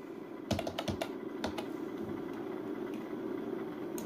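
Fingers type a captcha on a computer keyboard, a quick cluster of close clicking keystrokes at first, then a few isolated taps over a low steady background hum.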